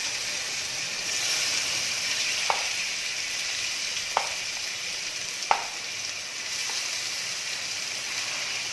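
Seasoned meat frying in a pan with onions: a soft, steady sizzle continues throughout, broken by a few sharp scraping clicks from stirring.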